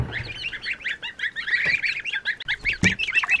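Farm ducks quack and honk in a busy, overlapping chorus of nasal calls near a water dish, with one louder burst standing out, close and alone without talk.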